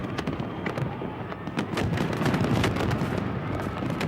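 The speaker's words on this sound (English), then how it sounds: "the fireworks continue in London." Fireworks display over London on millennium night, with dense overlapping bangs and crackles in a continuous loud barrage, some bursts nearer and sharper than others.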